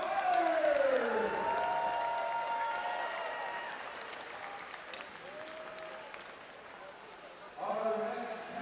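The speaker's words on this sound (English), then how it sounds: "Let's have a round of applause for our women's fighters!" Crowd applause for women's armored combat fighters at an outdoor tournament, fairly faint and distant clapping under an announcer's voice and other talk, thinning out then swelling briefly again at the end.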